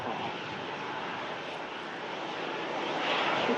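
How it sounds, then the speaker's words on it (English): An Aer Lingus Airbus A330 bound for New York rolls for takeoff at Manchester Airport during Storm Lilian, its engines a steady broad roar at a distance that swells slightly toward the end. "There you go, Aer Lingus 330 for New York on the roll."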